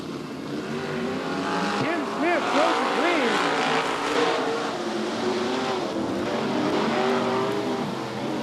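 Dirt track race cars roar around Gallatin Speedway in Belgrade, Montana, engines revving and whining as they pass close by, under an announcer's voice over the public address.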